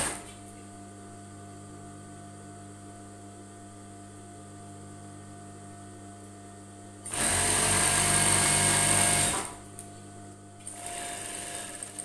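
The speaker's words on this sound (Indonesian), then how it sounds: "Kita ikutin garis ya, jahitnya sampai bawah" A sewing machine stitches a zipper into an A-line skirt, running in a steady loud whir for about two seconds, stopping, then starting again more softly after a quiet hum of room noise.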